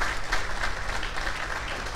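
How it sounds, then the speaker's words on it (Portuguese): Audience applause fills a club squad presentation event for the Ypiranga 2023 roster, a steady wash of many hands clapping at moderate volume, slightly distant. "Uma salva de palmas aqui."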